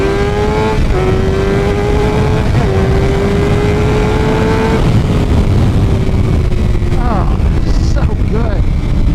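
A Suzuki GSX-R 750 fitted with a 16-tooth front sprocket accelerates hard out of a corner, its engine note climbing in pitch through the revs with a brief shift, under steady wind roar.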